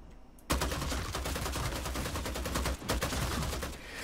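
Sustained rapid gunfire in the vampire battle-royale game Vampire: The Masquerade - Bloodhunt, a dense continuous burst that starts abruptly, dips briefly near the end, then resumes with no talking over it.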